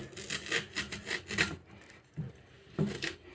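A knife cuts through a banana stem in quick, close scraping and rasping strokes, followed after a pause by a couple of slower, separate cuts.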